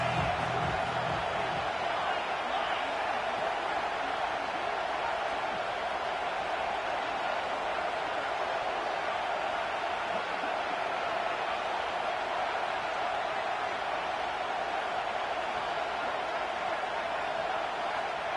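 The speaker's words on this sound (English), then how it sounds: "how nice is it to have the home crowd going absolutely bananas" A home crowd roars loudly and without a break in a college football video game, Notre Dame against Texas A&M, a dense steady wall of cheering that holds for the whole stretch.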